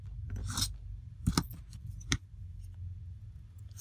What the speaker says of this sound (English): And I'll just use my scissors.